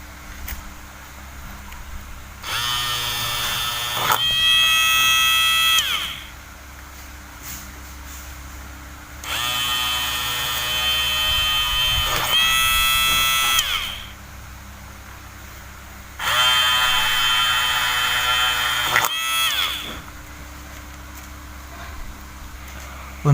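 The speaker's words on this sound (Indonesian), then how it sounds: "selanjutnya kita bor PCB-nya hingga semuanya ini terbor" A small high-pitched drill whines in three separate bursts of a few seconds each while drilling holes in a printed circuit board, separated by quieter pauses with a low background hum.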